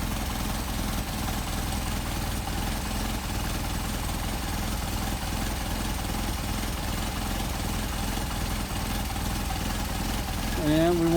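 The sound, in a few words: engine idling with Solex 44PHH carburetors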